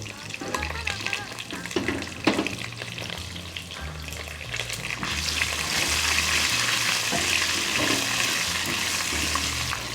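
Onions go into a hot pan for a spinach and garlic dish, with a few clatters and scrapes at first, then a loud, steady sizzle of frying that holds to the end.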